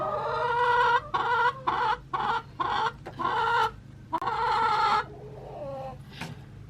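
A chicken clucks in a farmyard during chores, a series of close, loud, nasal clucks in short bursts followed by a longer call and a quieter coda, with steady low background hum.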